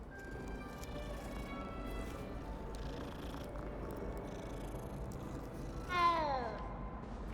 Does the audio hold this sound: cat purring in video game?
yes